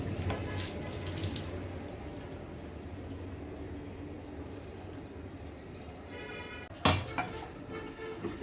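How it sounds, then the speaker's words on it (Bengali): Fresh fruit rinsed under running kitchen tap water after being bought from the market: a steady, soft stream of water hiss throughout, with a few brief clatters near the end. "তারপরে আমি ভালো পানি দিয়ে আবার ধুয়ে নিব।"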